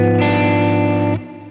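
An electric guitar chord from a song rings out thick and distorted with a shimmering effect, holding for about a second before cutting off and fading.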